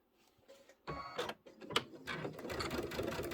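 A sewing machine stitches a tiling scene for an embroidered snowman, starting with soft clicks then rising into a rapid mechanical hum and clatter with a few sharp knocks, close and fairly quiet.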